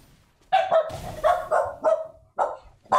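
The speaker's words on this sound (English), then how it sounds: "My dog is being crazy, everybody." Pet dog barking indoors, a series of loud, close, sharp barks in an irregular rhythm, with a whine mixed in, heard alone with no talk.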